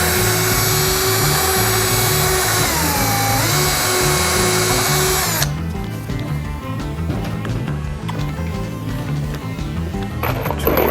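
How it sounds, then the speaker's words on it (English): A power drill driving screws while building a goat house whines steadily at high speed for several seconds, then cuts off, leaving softer rattling and clicking handling noises before a brief restart. "keeps your drill bit from sliding."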